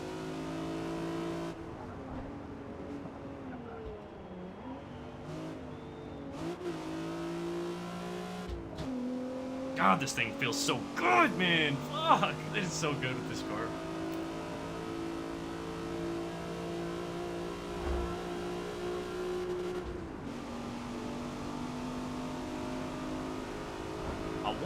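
Nissan G35 time-attack car in Forza Motorsport wails up to its redline, a loud steady engine drone climbing and shifting repeatedly, with a burst of tire scrubbing midway, while someone talks briefly over it.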